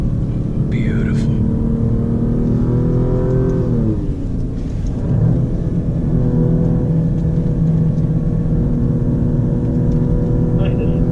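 An Alfa Romeo Giulia Quadrifoglio or BMW M850i accelerates out of a long corner at Monticello track. The engine note holds steady, dips briefly, then rises again, loud and close, under a constant cabin drone.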